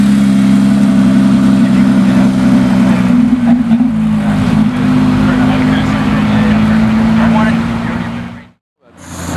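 A Mitsubishi Evo rolls into a car show, its engine rumbling loudly and close with a steady low drone that shifts slightly midway before cutting out abruptly near the end, with crowd voices underneath.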